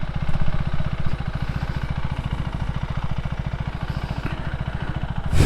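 A KTM Adventure 390 motorcycle idles close by, its single-cylinder engine thumping in a rapid, steady rhythm with a slight mechanical clatter, alone and unbroken throughout.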